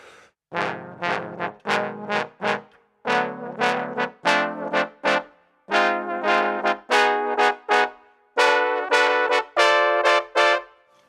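Trombones sound a major 6 chord voicing, a major triad with a tone above, in a series of about a dozen short, loud sustained blasts, each swelling and cutting off, with no talking.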